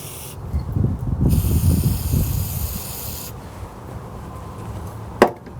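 Sensor cleaner sprays onto the mass airflow sensor of a Suzuki Esteem in two bursts of hissing, one longer and one after a pause, close and steady, with a brief sharp click near the end.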